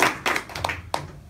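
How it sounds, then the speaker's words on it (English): A few scattered, separate hand claps ring out close by after a speech at an informative-speech presentation, brief and uneven, with no talking. "Big round of applause for Melissa."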